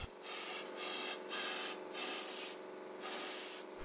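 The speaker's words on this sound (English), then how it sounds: "This needs to be removed with a wire brush." Wire brush scrubbing the inside of a drilled anchor hole, cleaning it out before resin injection: rhythmic, close scratchy strokes in about six bursts, loud and steady with no talk.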